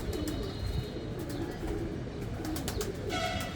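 Soft throaty cooing comes from a purebred Sialkoti pigeon, a brief rolling call over quiet ambient rustle, with a few faint chirps and no speech.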